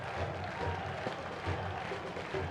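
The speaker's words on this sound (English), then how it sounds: "Coopers are going crazy. Crowd is happy." A stadium crowd at a Richmond Kickers soccer match cheers and applauds after a shutout, a dense wash of clapping and voices heard from a distance.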